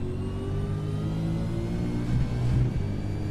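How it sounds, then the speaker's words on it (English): A race car engine in the iRacing game revs at a steady high pitch with rising harmonics, swelling louder near the end in a short burst of acceleration, close and continuous, with no talking. "you can still hear the race car"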